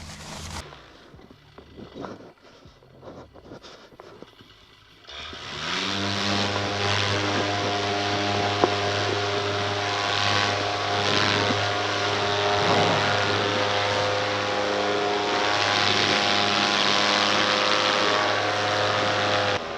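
Quiet rustling and handling give way after about five seconds to a propeller aircraft engine starting up and running, a loud steady drone with a strong low hum that persists to the end, flown in cold winter conditions.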